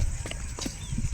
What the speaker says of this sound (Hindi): गांव की बकरियां देखो, पूरा रेला लग चुका है यहाँ पर गांव की बकरियों का